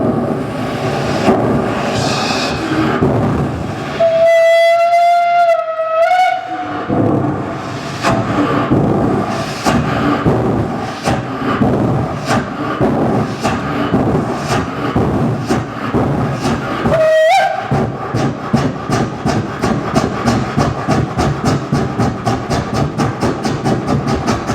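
A performer imitates a steam train with his voice, building rapid rhythmic chuffing bursts, two rising whistle-like hoots and fast repeated puffs, loud and close, with no talking.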